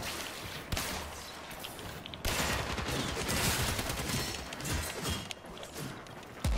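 Video game gunfire crackles in dense rapid volleys, loud and continuous, with a sharp surge after about two seconds and a steady barrage to the end.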